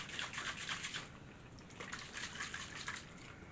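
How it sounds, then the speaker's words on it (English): A closed container holding tomato sauce and hot water is shaken, giving rhythmic bursts of liquid sloshing and splashing inside, soft but continuous and near. "I'm gonna shake."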